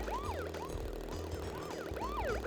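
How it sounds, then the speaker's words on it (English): Police car sirens wailing in the video game Crash Bandicoot 3: Warped, several overlapping sweeping tones rising and falling rapidly over a low engine hum, fairly close and continuous. "I'm predicting these police cars a bit better now"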